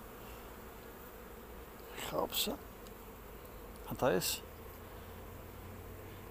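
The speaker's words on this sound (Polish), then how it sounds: "tu jest na tej ramce trochę pszczoły, co one tutaj, czy coś donoszą" Honeybees crawl over a hive frame lightly laden with dark honeydew honey, giving a steady close buzzing hum, with two short bursts of a person talking over it.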